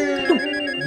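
A telephone rings after a call is placed to a shop, a steady electronic ring tone with a brief pitch dip, loud and close with no talk.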